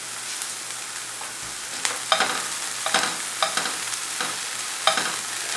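Onion and capsicum fry in butter with a steady, moderate sizzle while a spatula scrapes and taps the pan every second or so, heard close up.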